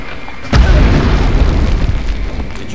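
A grenade goes off in the video game Medal of Honor, one sudden loud boom followed by a rumbling roar that slowly fades.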